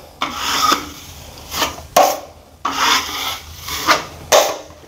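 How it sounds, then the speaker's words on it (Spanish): A putty knife scrapes joint compound off the edges of a drywall patch, rough rasping strokes, about five, each starting sharply and fading, close and alone. "Para limpiar las orillas tienes que ponerle un poco de presión sobre una orilla de la espátula."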